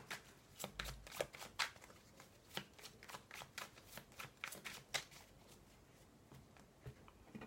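Tarot cards shuffled by hand before a love reading: a quick run of soft riffling and slapping card sounds, close and fairly faint, with no voices.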